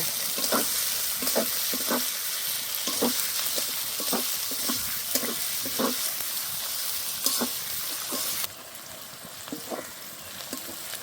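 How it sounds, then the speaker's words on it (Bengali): Onion and garlic fry in a pan with a loud, dense hiss, while repeated scraping stirs come every half second or so; the sizzle drops noticeably quieter near the end, and no one speaks. "পেঁয়াজ আর রসুনটা ভালো করে ভেজে নেব।"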